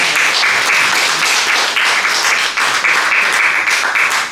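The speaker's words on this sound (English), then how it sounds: "Give him a round of applause." Audience at an open mic night breaks into steady applause, dense clapping close and loud throughout with small surges, no talk over it.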